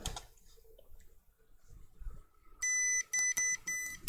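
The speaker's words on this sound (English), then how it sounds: "We're going to put it in continuity mode, so it's going to beep when there's a short." A multimeter in continuity mode gives a few sharp electronic beeps, broken into short bursts, after quiet clicks and handling noise while probing for ground pins on a Lowrance Hook2 12 Tripleshot fish finder.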